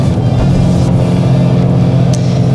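Cabin sound of a GR Corolla or Civic Type R hot hatch on a winding road, a loud steady engine drone with turbo whoosh inside the car, no speech.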